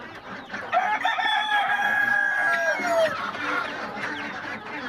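Chickens at a poultry seller's stall, with a rooster letting out one loud close crow that rises and falls over about two seconds, while hens cluck softly around it.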